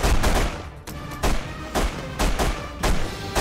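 Repeated gunfire from The Punisher video game: sharp, loud shots in short bursts separated by brief gaps, close and dominant, with no talking.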